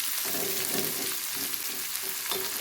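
Bitter gourd pan-fries in a vessel with a continuous hiss of sizzling oil. Soft, rhythmic stirring strokes pulse through the steady frying noise.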